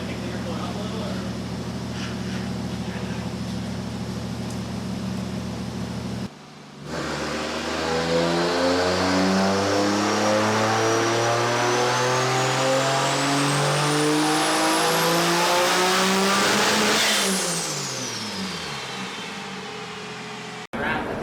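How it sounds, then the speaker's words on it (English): Nissan Pulsar with a turbocharged 1JZ engine on a dyno, idling then revving hard in one long climbing pull before dropping off, loud and close, with the engine breaking up under load. "So his car is still breaking up,"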